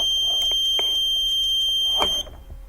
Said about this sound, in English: Here we can see the buzzer.